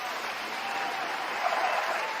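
A canned applause sound effect triggered during a livestream, a steady wash of crowd clapping and cheering at even loudness, with no voice over it.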